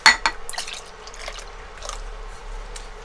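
Standard milk pours into a pot while Christmas food is cooked, a soft liquid trickle with faint drips and a couple of light clinks against the pot, quiet and close.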